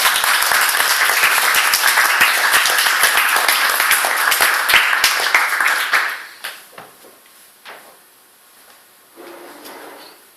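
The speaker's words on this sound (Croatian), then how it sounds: "Molim jedan aplauz za Vlatka." Audience at a Croatian slam poetry championship in a club applauds a poet, dense clapping filling the room for about six seconds before thinning to a few scattered claps and near quiet.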